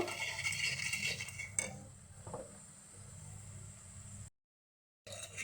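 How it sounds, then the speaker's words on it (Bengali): Spices with chili powder and salt frying in a pan for a shol fish and potato curry, a faint steady sizzle with light scraping and clinks of a stirring utensil, quiet and close. "ভালো করে কষিয়ে নিব"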